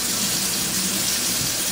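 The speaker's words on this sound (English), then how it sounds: "I fill that up with cold water." Cold tap water pours steadily into a half-cup measure at a sink, a continuous close hissing splash with no pauses over the short stretch.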